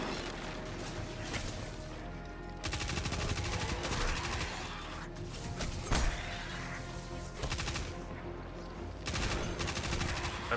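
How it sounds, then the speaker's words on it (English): A shotgun fires in Destiny during a Hardcore Gambit match. Several separate loud blasts come a few seconds apart, each a sharp broadband boom with some mechanical clatter between shots and no talking over them. "It's gonna feel so weird using the shotgun"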